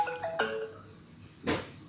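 A short electronic phone ringtone plays a few quick rising tonal notes, fairly faint in a quiet room, followed by a brief rustle.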